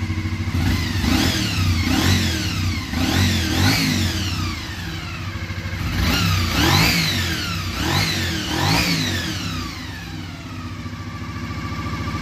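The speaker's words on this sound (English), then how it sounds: "That's that cam gear driven NC24 VFR400R." Close, loud repeated throttle blips from a stock 1988 Honda NC24 VFR400R sport bike with gear-driven cams, the revs shooting up to a shrill scream and dropping back to a steady idle between bursts.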